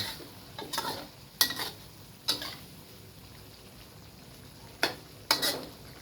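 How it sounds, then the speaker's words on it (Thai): Chicken giblets with holy basil stir-fry in a pan over high heat, a soft steady sizzle broken by five or six sharp scrapes and clanks of the spatula, close up with no talking. "ผัดต่อไปครับ ไฟแรง สุก หรือยังเอา ให้สุก นะครับ"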